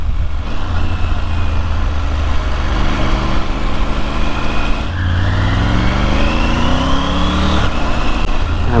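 A Triumph Tiger 900 motorcycle engine accelerating under load on the road, loud and close, with rising revs, a brief dip around a gear change, then climbing again amid wind rush.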